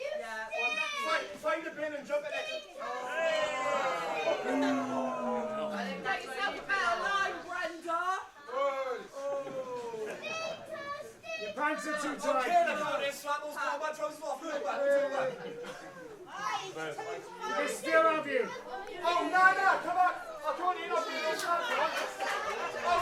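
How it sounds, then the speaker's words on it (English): A loud, lively crowd at a wrestling match in Cwmbran fills the hall with overlapping shouts, chatter and jeers directed at Brendan White, rising and falling throughout without pause. "We've got a very vocal crowd here for Brendan White tonight."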